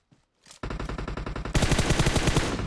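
Loud, close automatic gunfire in PUBG Mobile, a fast sustained burst of rapid shots that grows heavier partway through, following a couple of faint earlier clicks.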